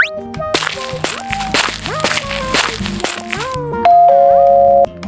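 A cartoonish doorbell chime rings in the Avatar World game amid bright layered game jingles and sound effects, with a sustained two-tone ring near the end.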